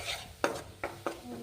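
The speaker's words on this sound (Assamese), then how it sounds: "এতিয়া এচামুচ ঘিউ দি অকণমান বেচন ভাজি লওঁ" Gram flour frying in a spoonful of ghee over a medium flame, with three or four short scraping stirs of a spoon against the pan over a low sizzle.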